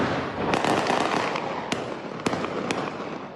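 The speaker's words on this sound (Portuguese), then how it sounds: "E também de fogos de artifício, que bandidos costumam usar para avisar sobre a movimentação das tropas que cercaram a favela" Fireworks set off by gangs in a favela as troops surround it, heard as a roaring, crackling wash with several sharp pops and bangs, moderately loud and somewhat distant.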